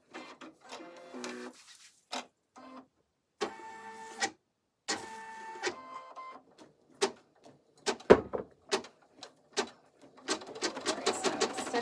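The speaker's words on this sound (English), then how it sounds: "Now we're just stitching out the placements for the snaps." Embroidery machine stitching snap placement marks on an in-the-hoop vertical wallet, heard as bursts of rapid mechanical chattering broken by short pauses and clicks, close and fairly quiet with no talk.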